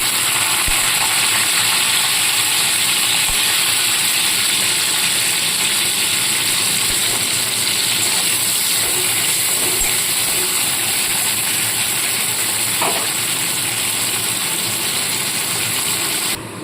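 Sliced onions fry in hot white oil to make birista for egg malai korma, a loud, steady sputtering hiss that continues without a break.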